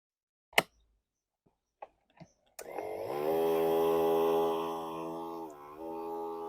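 After a few clicks, the electric motor of a rewired battery sprayer starts up and runs with a steady, loud buzzing whine, close by, changing pitch slightly near the end.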